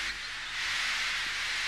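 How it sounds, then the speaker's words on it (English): A steam engine blows off steam in a loud continuous hiss that swells slightly after a brief start and holds steady without pause. "Henry still stayed in the tunnel and blew steam at him"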